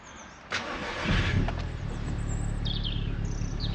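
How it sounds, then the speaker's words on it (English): An Audi TT, just fitted with a new head gasket, cranks with a sharp click and then catches into a loud, steady running engine nearby, while birds chirp faintly in the background. "So we'll just give the engine a start up and I'll show you."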